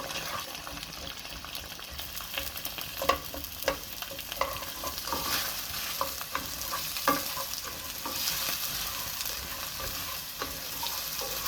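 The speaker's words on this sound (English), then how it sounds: "I'm gonna add my onion and garlic to the pan" Onion and garlic sizzle in olive oil in a pot for Irish stew, a steady broadband frying hiss with scattered spoon-stirring clicks and scrapes throughout, no talk.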